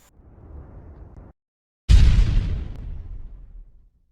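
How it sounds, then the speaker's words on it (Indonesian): Grenade explosion sound effect: a low rumbling build-up, a moment of silence, then a sudden loud boom that decays into a rolling rumble over about two seconds, with no voices. "Rasanya itu pengen jadi Rambo atau lempar granat"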